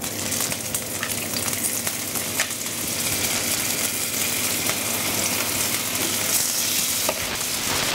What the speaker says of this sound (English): We'll get a little bit more oil, and we'll fry off some more beef.